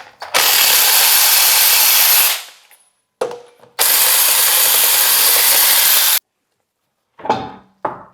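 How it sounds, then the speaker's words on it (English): Loosening lug nuts with a 22 mm socket on a Colorado/Canyon pickup wheel, using a loud power impact tool in two long whirring bursts, then a brief buzz and two short closing bursts, with silent gaps between. "go ahead and just loosen up the lug nuts. You're going to need a 22 millimeter socket."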